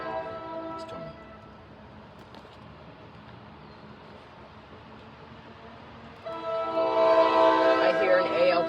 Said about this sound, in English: I hear an ALP 45. I hear it.